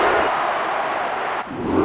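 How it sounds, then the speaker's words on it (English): Arena crowd cheering loudly in the wrestling video game WWE Mayhem during a Steve Austin vs Shawn Michaels match, a dense continuous roar that dips briefly before surging again. "Oh, will you listen to that crowd?"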